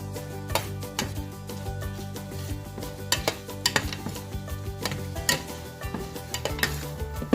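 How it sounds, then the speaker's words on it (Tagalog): A spoon stirs dissolved cornstarch into BBQ pork bun filling in a pan on the stove: a steady scraping, clinking stir over a low sizzle, with sharp metallic taps against the pan throughout. "Ilalagay na natin yung natunaw na cornstarch. Dahan-dahan para lumapot yung filling natin."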